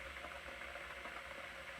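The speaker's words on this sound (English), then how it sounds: "I think you can actually hear the boiling in the water if I mute the music." A pot of water boils for noodles, a soft, steady bubbling with faint irregular pops under a low background hum, quiet and close.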